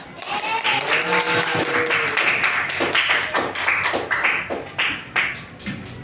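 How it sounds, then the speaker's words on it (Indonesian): Fifth-grade pupils in an Indonesian-language classroom clap for a classmate, a ragged burst of hand claps that grows choppier and sparser toward the end, with a voice briefly heard near the start. "tepuk tangan temannya"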